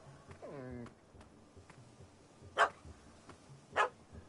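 In The Witcher 3, a dog lets out two sharp, separate barks at middle distance, with a whimpering yelp before them and game voices talking around them.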